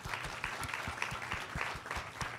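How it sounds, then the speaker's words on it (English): An audience at a higher-education equity leadership event applauds two colleagues, with a steady round of clapping mixed with some low thumping. The applause is moderately loud and sustained throughout, with a faint voice underneath. "applause for the work you're doing"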